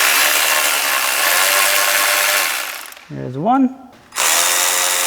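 Power tool whirring steadily and loudly while backing out water pump housing bolts on a Volkswagen MK7, stopping briefly as a voice speaks, then spinning up again.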